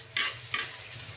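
Garlic and onion sautéing in a hot pan, with two sharp sizzling bursts as ingredients hit the oil and are stirred, then a steady crackling fry underneath, close and fairly quiet, no talking.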